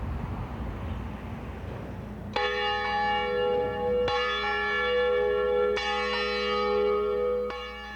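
A deep church bell tolls four times with long ringing overtones, each strike sounding over the previous one's decay, after a stretch of broadband noise.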